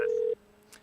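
A single steady telephone dialing tone beeps for about a third of a second, then cuts to near silence.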